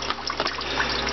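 Water runs steadily out of a hydroponic tub during a nutrient change, a constant close gushing and trickling with bubbly surface detail and no voices.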